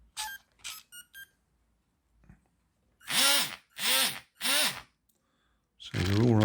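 An electric motor run through an ESC gives three short whirring bursts that rise and fall in pitch, then a longer sustained whine at the end, with a few faint beeps and clicks before it.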